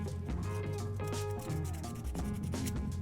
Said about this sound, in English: I'm gonna get some sandpaper.